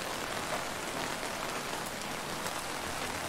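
Rain falls steadily in the 1990s-set video game Chasing Static, a dense, even hiss of drops on surfaces, with no voices.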